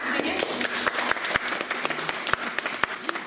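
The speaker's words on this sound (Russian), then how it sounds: "Давайте поддержим их аплодисментами." An audience claps at a school concert in Murmansk, a steady patter of applause with some sharp, close claps standing out, continuing throughout.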